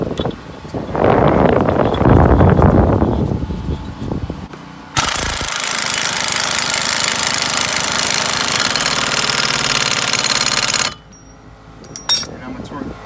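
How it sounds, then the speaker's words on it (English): Impact wrench on the axle nut of a Chevrolet Impala during lower control arm replacement, first a short loud rattling burst, then a long continuous whirring run of about six seconds before stopping. "now we're going to do this axle nut"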